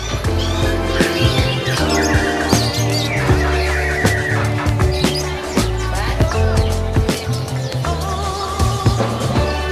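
Caged birds at a bird market beside the Kraton in Java squawk and chirp constantly, with dense overlapping calls over steady background music and crowd noise.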